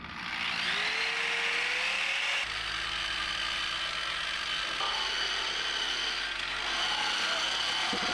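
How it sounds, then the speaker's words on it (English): A power tool fitted with a 40 grit stripping drum, used on a Nissan R33 Skyline, spins up with a rising whine and then grinds loudly and steadily up close for the whole stretch. "Fire this guy up. 40 grit stripping drum."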